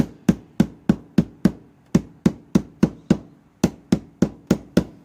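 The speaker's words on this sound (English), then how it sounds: "take a ball peen hammer and knock those screw divots down" Sharp metallic hammer strikes in a steady, even rhythm, about sixteen blows with a brief pause partway through, close and loud.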